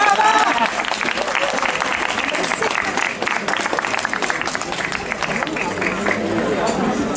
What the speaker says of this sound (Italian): Facciamo un applauso a Irene.